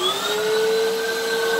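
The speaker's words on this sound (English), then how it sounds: "so I'm going to turn the vacuum on." A vacuum cleaner with a pet hair attachment runs steadily with a loud, high-pitched motor whine and rushing air, no voices present.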